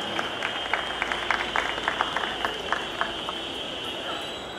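Audience at a mushaira in Bhiwandi clapping to welcome guests, a moderate, uneven patter of hands with distinct individual claps standing out over a steady background hum.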